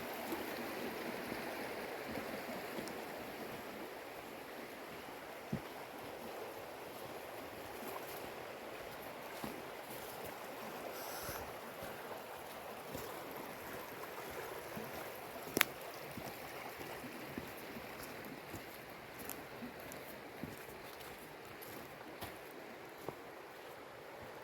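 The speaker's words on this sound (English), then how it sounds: "I'm really digging this little swimming hole right here" Creek water flows steadily at a swimming hole near a dispersed campsite in the Monterey, Virginia area, a soft continuous wash with faint scattered splashes and clicks.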